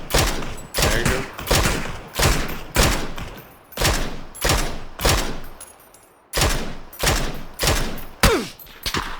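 Repeated bursts of gunfire in a battle royale video game, loud, close shots arriving in quick volleys roughly every half second to second, with a brief lull near the middle before firing resumes.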